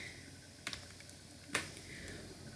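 Keys clack on a computer keyboard as a registration number is typed into an online application form, with a couple of distinct, faint keystrokes spaced apart over a quiet background.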